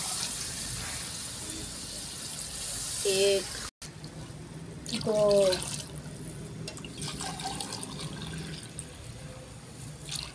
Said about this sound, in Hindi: अब इसके अंदर पानी डाल देती हूँ